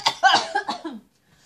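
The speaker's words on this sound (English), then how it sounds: "I'm just coughing over here." Coughing after taking the cinnamon challenge, a short cluster of harsh, close coughs that fades into quiet within about a second.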